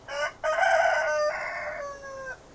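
A rooster crows once, loud and close, a short opening note followed by a long drawn-out call that trails off.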